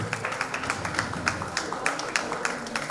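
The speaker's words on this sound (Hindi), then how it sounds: "स्वागत में सभी ताली बजाइए" An audience at a one-day AWPL training programme claps to welcome a speaker, a steady patter of many hands at moderate loudness with faint voices mixed in.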